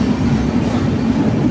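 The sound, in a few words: train running through a tunnel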